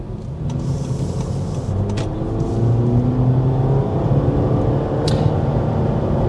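Cabin of a 2026 Honda HR-V as the car turns onto a highway: a steady engine and road drone that rises as it speeds up, with a few faint interior clicks and no talking.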